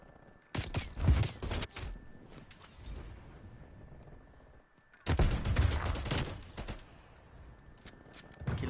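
Rapid video-game gunfire from Call of Duty Cold War comes in two loud dense bursts, the first following a grenade throw, with a quieter stretch of lower rumble between them.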